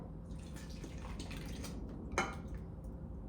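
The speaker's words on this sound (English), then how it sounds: "So I'm simply just gonna pour it into the bowl." Whisked wet ingredients poured into a bowl of dry oats give soft wet drips and squishy splats, close and quiet, with light clinks against the bowl.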